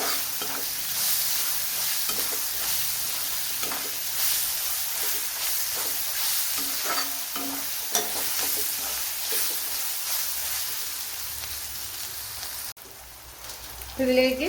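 Two medium onions and curry leaves fry in a pan for Mangalore-style chicken, a loud steady sizzle and hiss with occasional stirring scrapes, a brief word spoken over it.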